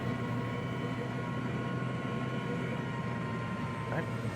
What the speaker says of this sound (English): now you can spool it down